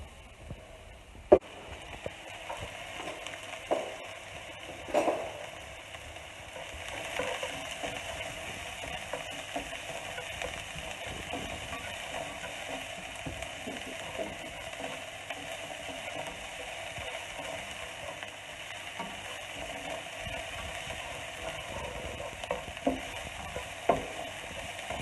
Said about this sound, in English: taking the onions and popping it into a saucepan with your oil, so about a tablespoon of oil. And then we're going to cook these